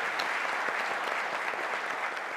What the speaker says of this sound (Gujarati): એકવાર જોરદાર તાળી એનસીપીએ માટે